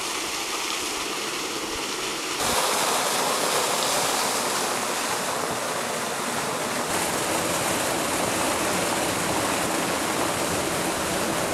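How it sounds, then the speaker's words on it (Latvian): Steady, loud broadband roar of a waterfall choked with rubbish, constant rushing water with no pauses, swelling a little stronger after the first couple of seconds. "Šis tā saucamais atkritumu ūdenskritums."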